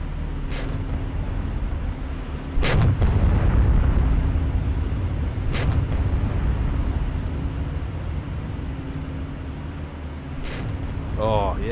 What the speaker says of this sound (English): Shells landing all around.